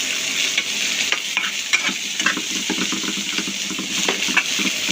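Lightly fried long beans sizzle in a pan for chaumin while being stirred, a continuous close frying hiss broken by scraping and clinking stirring strokes.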